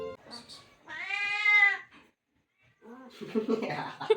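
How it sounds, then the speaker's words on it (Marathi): Cats meow at a home where they have been drawn by cooked chicken, a long clear drawn-out meow standing out near the mic, with brief cries before it and a person speaking afterward. "ह्या चिकनमुळं आमच्या घरात किती किती मांजरी येत आहेत"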